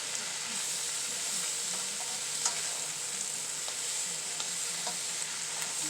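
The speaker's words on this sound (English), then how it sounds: "You see how it's cooking down with the onions." Onions cooking down in a pan give off a steady, close broadband sizzle with faint scrapes of stirring, and no voices are heard.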